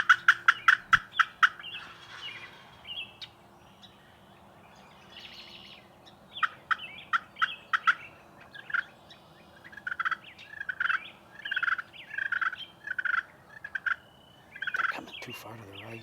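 Wild turkeys gobble in Michigan woods during a hunt, repeated bursts of distant rattling gobbles and clucks coming in clusters against a quiet outdoor background.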